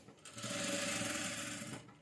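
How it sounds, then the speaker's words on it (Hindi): Sewing machine stitching along the collar of a princess-cut double-colour kurti, a steady close whirring run of fast stitches lasting nearly two seconds before it stops, with no talking. "तो सिलाई मैंने जैसे ही चलाई ना अपनी कॉलर पे"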